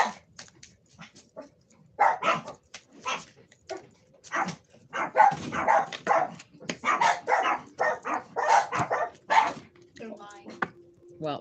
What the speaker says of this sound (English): My dogs have been extra barky today.